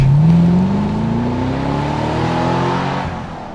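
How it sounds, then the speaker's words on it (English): A Chevrolet Camaro SS V8 roars loudly up close, its engine note climbing steadily in pitch as it accelerates hard, with a deep throaty rumble that holds strong before easing slightly at the end. "what is it about the red-blooded American male that we like V8 noise so much?"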